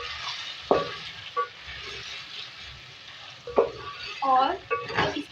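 A spoon scrapes and clinks around a frying pan of sizzling whole spices (black and green cardamom, cloves) and green chillies, with a soft steady fry underneath and several sharper metal knocks against the pan.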